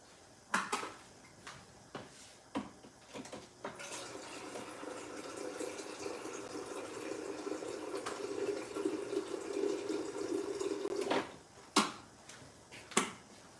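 Tap water runs into a kettle or pot for tea. A steady fill rushes for several seconds, with clicks and knocks of handling before and after it.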